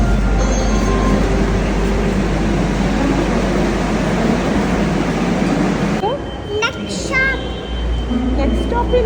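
Riding a metro train gives a loud, continuous rumble of wheels and carriage, then a change near the end with a brief high squeal or chime over quieter hum; voices are faintly mixed in.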